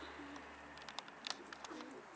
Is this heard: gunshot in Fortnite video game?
no